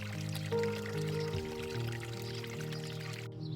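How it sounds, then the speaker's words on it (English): Water pouring steadily from a village spring, a continuous splashing flow heard close and fairly loud with a faint tonal hum beneath it, with no talk. "Here is a spring and people take water from here to drink."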